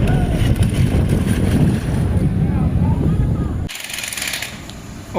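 Loud sea waves and gusting wind roar continuously around a boat, with the noise dropping suddenly near the end.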